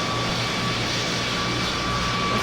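Loud, steady airplane engine roar of a plane landing at Lukla airport in the PTFS flight game, a constant close drone with no voices.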